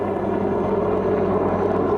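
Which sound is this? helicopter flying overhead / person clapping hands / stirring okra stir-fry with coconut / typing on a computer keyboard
helicopter flying overhead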